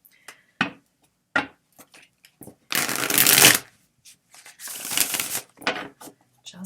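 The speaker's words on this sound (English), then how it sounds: "Okay, one more shuffle." A deck of playing cards being shuffled by hand during a tarot-style reading, with a few short riffling bursts and two longer loud riffle runs, close up, between quiet pauses and brief talk.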